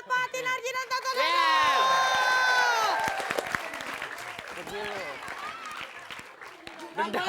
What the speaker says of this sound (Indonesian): Tepuk tangan buat Fatin Arjin dan Tata Dada.